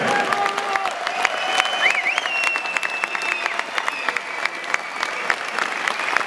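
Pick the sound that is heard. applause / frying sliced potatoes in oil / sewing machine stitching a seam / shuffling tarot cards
applause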